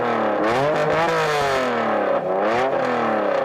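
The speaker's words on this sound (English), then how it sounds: "I'm going to rev up this Honda NSX." A Honda NSX engine revs hard and loud, with the pitch climbing and falling through several close, continuous sweeps and no pauses.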